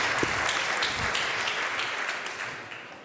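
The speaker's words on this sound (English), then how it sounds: "Adam, please, a round of applause for Andreas" A conference audience claps for a speaker, with a few crisp close claps in a dense burst that slowly thins and fades over about three seconds.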